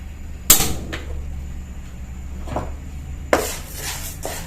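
A kitchen gas stove is switched on while making payaththam paniyaram: a sharp igniter click, a softer tick, then another loud click as the burner catches, with a faint steady hiss between clicks.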